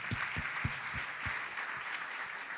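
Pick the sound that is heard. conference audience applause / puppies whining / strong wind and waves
conference audience applause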